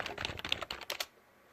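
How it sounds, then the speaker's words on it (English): Fingers tap out a quick burst of keystrokes on a computer keyboard, close and fairly soft, then stop abruptly, leaving near silence. "I'm doing the same thing, typing in Turbo Rip."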